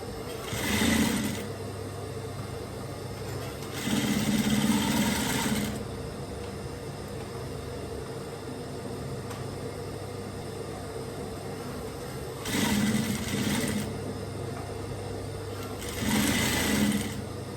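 A sewing machine stitches a stretched band onto a bomber jacket in four loud whirring runs, each lasting a second or two, separated by quieter pauses.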